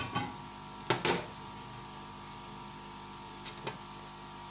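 Onions and ginger sautéing in a pan, a soft steady sizzle with a few scraping stirs of a spoon and light clinks against the pan.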